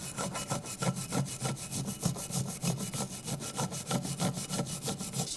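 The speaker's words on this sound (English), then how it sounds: "Take the brake caliper bracket and a wire brush, just clean the area where the brake pads are gonna go." Wire brush scrubbing rust off the brake caliper bracket of a 2007–2013 BMW X5, a fast, steady back-and-forth rasping that runs without a break at close range.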